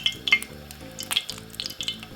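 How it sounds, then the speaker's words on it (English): Garlic clove frying in hot oil for Jamaican-style fry-up salt fish, giving a steady close sizzle with tonal music-like notes running underneath. "put a clove of garlic in the oil and fry it off like this in the oil for a second"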